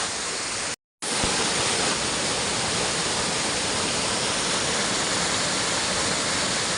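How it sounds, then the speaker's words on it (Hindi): A small waterfall in a mountain stream roars steadily and loudly close by, a dense continuous rush broken only by a brief dropout near the start, with no talking. "तो इधर एक छोटा सा झरना है, मैं जा रहा हूँ झरने के बाद।"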